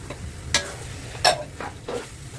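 Carrots, bell pepper and sliced hotdog sizzle in a frying pan under a constant hiss while a spatula scrapes through them in three or four quick strokes.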